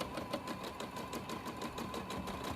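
A sewing machine runs at a set speed, its needle ticking in a fast, even rhythm while stitching variegated thread, quiet and close with no voices.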